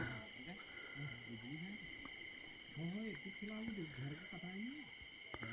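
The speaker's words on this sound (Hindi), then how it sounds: "उल्लू बोल रहा है।" Faint, low owl hoots repeat against a constant, steady chorus of night insects in a forest at Jim Corbett National Park, with quiet voices nearby.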